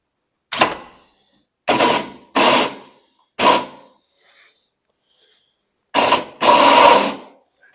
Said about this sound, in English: we're just letting the drill do the work